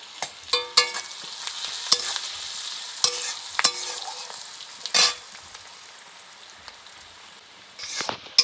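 Cinnamon pieces and onions frying in hot oil for an egg curry, a soft steady sizzle broken by sharp clinks and scrapes of a spoon stirring the pan, up close.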